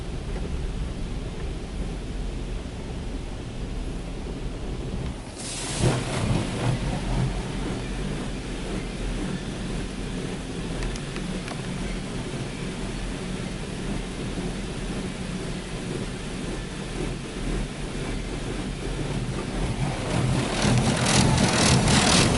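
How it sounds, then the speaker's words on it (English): A car wash wheel blaster sprays water against a car in a steady, powerful rushing roar heard from inside, with a sharp surge early on and growing louder toward the end. "That's the wheel blaster."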